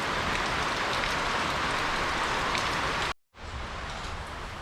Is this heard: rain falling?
yes